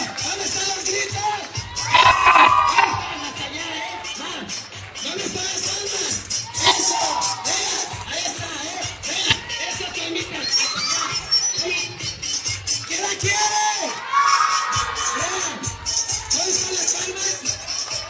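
Lively crowd cheering, whooping and shouting along a street procession, with loud swells of excited voices and claps rising and falling throughout, some nearby shouts standing out.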